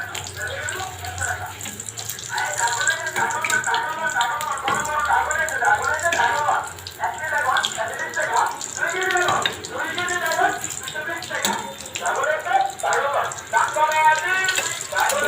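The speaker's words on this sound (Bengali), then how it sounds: "লাল লাল করে ভেজে নেব।" Potato chops (aloo chop) sizzle in hot oil with a continuous crackling, bubbling hiss. A person talks over the frying throughout.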